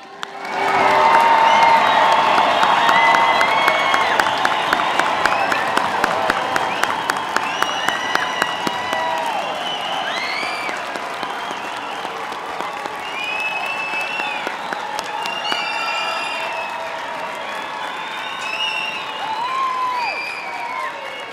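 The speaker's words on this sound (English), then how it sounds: "Not a polite applause, but a standing, stomping, yelling, enthusiastic round of applause." A large crowd at the 2023 Oregon Tech commencement gives a long standing ovation: dense, sustained applause with rhythmic stomping early on, then whoops, whistles and scattered shouts rising over the clapping.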